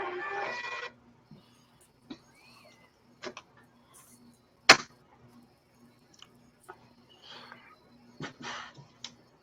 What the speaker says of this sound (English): And in case you're wondering, Rich, I have a thermal label printer, so I don't have to pay for any ink